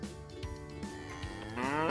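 An animal learning toy plays a cow's moo, a short electronic lowing that rises toward the end.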